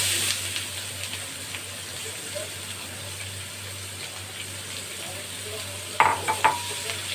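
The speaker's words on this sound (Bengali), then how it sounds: "পেঁয়াজগুলো আমি একটু লাল করে একটু ভেজে নেব" Soft, steady sizzling of chopped onions frying in oil, with a few sharp scraping clinks of stirring near the end.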